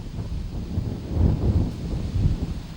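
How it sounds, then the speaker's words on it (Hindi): Strong hot heat-wave wind blows in northern India, a steady low, rumbling gusty roar with surging peaks across the whole short stretch. "देखिए, इस वक्त जो तस्वीर है, तेज़ हवाएं हैं।"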